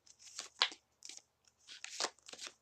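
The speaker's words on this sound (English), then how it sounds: "I like to shuffle in front of you guys so that you know I did shuffle the deck." A deck of cards is shuffled close by, heard as several short, crisp riffling bursts separated by brief pauses, fairly quiet and with no talk.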